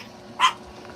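A single short dog bark rings out, sharp and fairly close, standing alone against a quiet background.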